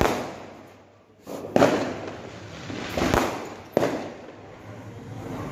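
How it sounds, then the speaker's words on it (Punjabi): Diwali firecrackers burst outdoors in a few sharp bangs, each followed by a crackling, fading tail, fairly distant and spaced a second or two apart. "ਦੀਵਾਲੀ ਵਾਲਾ ਦਿਨ ਆ ਪਟਾਕੇ ਚੱਲ ਰਹੇ ਆ"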